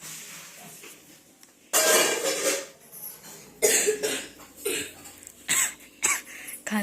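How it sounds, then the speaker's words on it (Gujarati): A sick young boy coughs at home in several sharp, close bursts separated by short pauses, the hacking clearly audible and loud against a quiet background. "ખાંસી બાપા ખાંસી."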